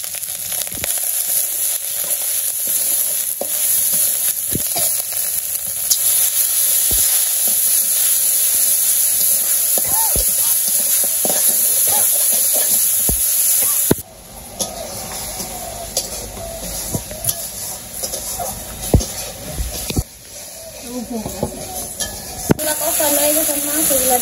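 Spices with chili powder and salt sauté in a pan in a village kitchen, a loud, steady sizzle that drops to a quieter crackle midway as stirring continues, with a voice speaking at times.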